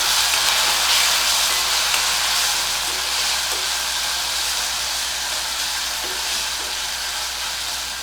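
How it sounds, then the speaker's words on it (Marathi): Soaked peanuts being sautéed in a pan for a spinach-buttermilk curry, a steady loud sizzle with faint stirring scrapes throughout, no voices. "आणि शेंगदाणे पण भिजत ठेवले होते ते पण घालते परतून घेऊया"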